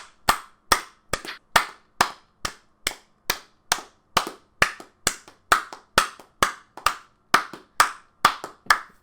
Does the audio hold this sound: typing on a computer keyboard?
no